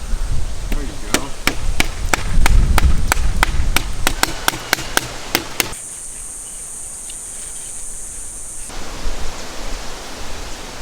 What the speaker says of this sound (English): hammer the knife down, make a cut this way